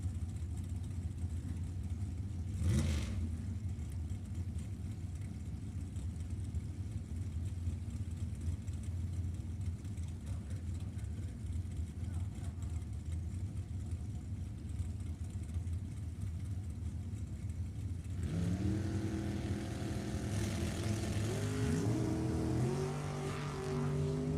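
Drag race cars at a bracket event, including a 1991 Corvette, rumble steadily with engine drone throughout, then one car revs hard and launches near the end, its engine note climbing through rising pitches.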